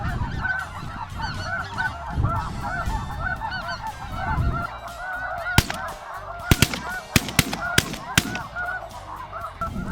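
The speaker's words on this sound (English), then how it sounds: "we just had a big flock come over and they kind of hung up above us" A big flock of geese circles low overhead on the Canadian prairie, their loud, dense honking filling the air nearby, broken later by several sharp, loud cracks in quick succession.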